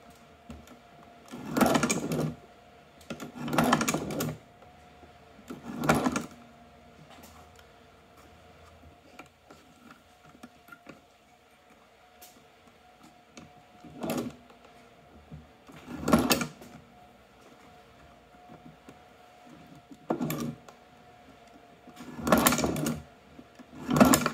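A China shoe patcher sewing machine stitches through thick 24 oz leather for a knife sheath, giving short bursts of mechanical clatter separated by pauses, fairly close and alone, roughly eight runs of stitching.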